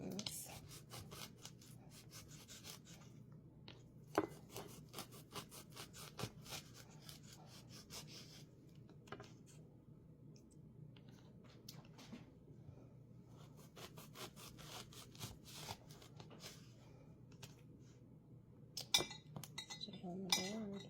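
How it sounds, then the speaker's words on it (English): A knife chops vanilla beans on a board in quick, irregular taps and clicks, close and fairly quiet, with pauses between bursts of cutting. "So now I'm going through and chopping the beans."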